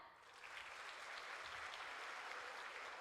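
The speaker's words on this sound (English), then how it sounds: "when I say do not clap, clap the loudest" A crowd claps steadily, a dense wash of many hands that builds quickly and holds at full strength throughout.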